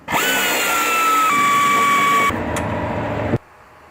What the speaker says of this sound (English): now we're going to get in there with a 15mm deep well socket and a speed ratchet